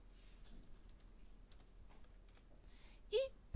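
Computer keyboard typing during the entry of a participant count for a prize draw, with soft, quiet, irregular key clicks and a brief louder click near the end, no talk.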